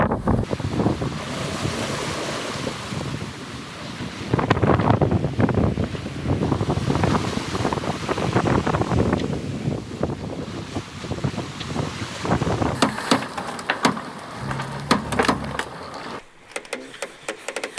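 Sailboat with two reefs in the sail crossing the Atlantic from the Canary Islands to the Caribbean in 20-knot winds, loud gusting wind buffeting the microphone over rushing waves, with sharp splashes and knocks near the end.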